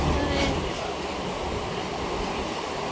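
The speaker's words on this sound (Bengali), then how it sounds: "ট্রেন আমাদের চলে এসছে" A train pulls into a station, a steady broadband rumble of wheels and carriages, with faint high squeals now and then, loud and continuous throughout with no speech over it.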